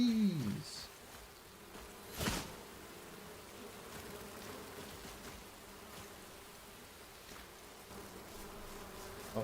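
A steady, faint insect drone of bees buzzing in the Enshrouded video game, continuous and low behind ambient game sound, with one brief sharp noise early on.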